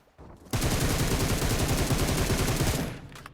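Sustained automatic gunfire in PUBG Mobile, a loud rapid burst of shots from an M7 rifle in a solo-versus-squad match, running continuously for nearly three seconds before stopping.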